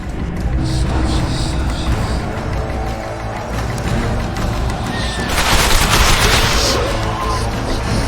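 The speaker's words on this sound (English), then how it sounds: "Take cover! They're shooting!" Gunfire in The Witcher 2: Assassins of Kings, loud bursts of rapid shots and crackling impacts over a rumbling background, intensifying toward the end into a dense volley.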